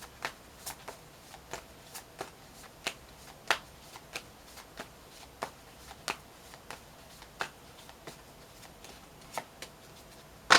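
Tarot cards are shuffled close up in a quiet room, a steady series of soft, crisp riffles and snaps spaced about half a second apart, with no talking.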